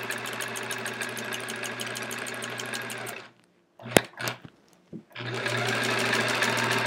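Sewing machine running steady straight-line quilting stitches on the border of a sampler quilt, a loud continuous whir that stops midway for a few short clicks and handling noises, then starts up again.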